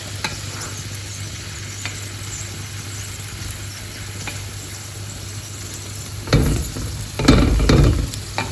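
Aloo paratha fries in a pan with a steady, close sizzle, and louder bursts of scraping and tapping near the end as it is moved around. Nobody speaks.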